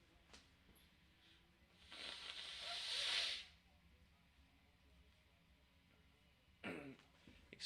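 A person suffering from allergies blows their nose away from the mic in one faint, long hissing blow. A shorter puff follows a few seconds later in a quiet room.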